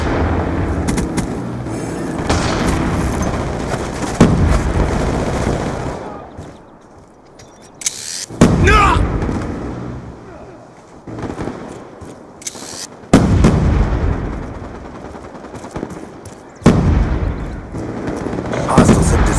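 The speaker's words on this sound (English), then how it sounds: "Friendly death machine spinning up." Rapid automatic gunfire from a Death Machine minigun in Black Ops 2, heard as repeated loud bursts of shots with pauses between them, mixed with other game effects.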